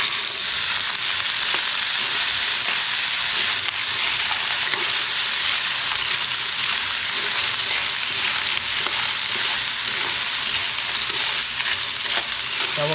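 Tabagwang shellfish, also called pisipis, hitting a hot pan and sizzling in a loud, steady, continuous fry that holds evenly for the whole stretch, with occasional faint stirring clicks and no talking.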